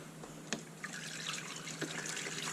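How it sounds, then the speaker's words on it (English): Halls antifreeze coolant poured into the cooling system of a Nissan NP200 pickup, a faint, steady liquid trickle and gurgle with a few soft splashes. "I'm putting in 2 liters."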